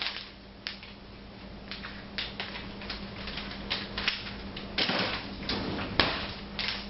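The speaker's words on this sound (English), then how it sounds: "Get the scissors to cut the bag open." Scissors snipping open a plastic bag of pre-cooked chicken in a college kitchen, a series of sharp close cuts and crinkles at an uneven pace, fairly quiet with faint room hum.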